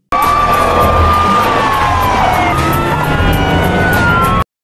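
A police siren wails continuously and loudly, its pitch sweeping up and down, with a low vehicle rumble underneath.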